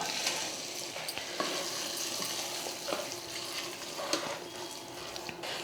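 Hot tempering with curry leaves sizzles as it is stirred into pongal, making a steady close frying hiss with soft spoon scrapes and small pops, no talk.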